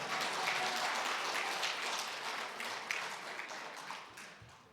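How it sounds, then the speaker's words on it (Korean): A church congregation claps at a speaker's request after a children's song, producing a dense, fairly faint burst of applause that holds steady and then gradually thins out toward the end. "박수 좀 쳐주세요"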